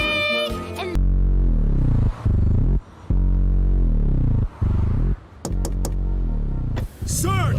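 Cartoon stomach growling loudly, a long rumbling, warbling gurgle that swells and drops in low pitch with brief breaks, mixed with cartoon dialogue and sound effects.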